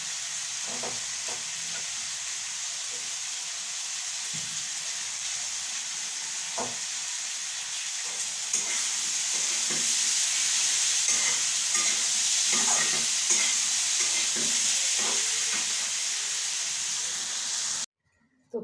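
Chopped ginger frying in a pan, a steady bright sizzle with repeated scrapes and knocks of a spoon as it is stirred, growing a little louder midway, with no voices.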